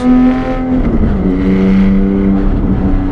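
Porsche 718 GTS 4.0 flat-six revving hard under acceleration, a loud, close, continuous engine roar with rising pitch and audible gear shifts breaking the pull.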